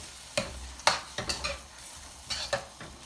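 Green curry paste cooking in a pan, with a soft sizzle under several distinct clinks and scrapes of a utensil stirring, spaced irregularly, close by.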